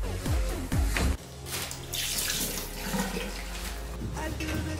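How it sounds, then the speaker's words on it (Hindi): Water runs steadily from a tap as hands are washed at a sink, a broad continuous splash with a few brief handling knocks near the start. "एक मिनट जरा हाथ धोया।"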